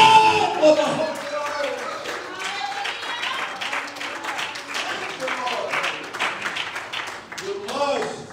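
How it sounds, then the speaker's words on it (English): Church congregation clapping hands during a service, a dense wash of many hands clapping with voices mixed in and a louder burst near the end. "Would you one more time clap your hands and thank God for the Holy"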